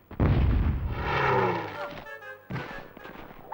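An artillery shot in the Hogs of War PS1 game lands with a loud booming blast that rolls and fades over a second or so, followed by a brief sharp secondary burst and a voice speaking.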